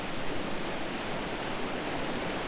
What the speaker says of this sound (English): Well, except for the rushing water.